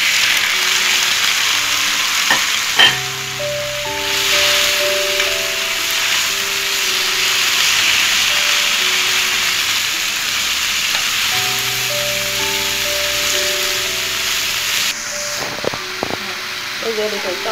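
Squash greens stir-fry with golden garlic in a hot pan, a loud, continuous sizzling hiss with occasional utensil clatters, while a voice talks over it.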